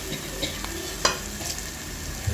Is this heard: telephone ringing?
no